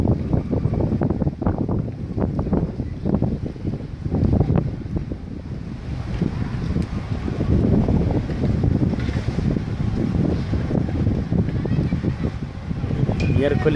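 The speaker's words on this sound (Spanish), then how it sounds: "Quizás nuestra palabra no queden grabadas allí por el fuerte viento que nos azota" Strong wind buffets the microphone with continuous loud rumbling and gusting at an outdoor neighborhood soccer match in Siloé, Cali, Colombia, while voices talk underneath.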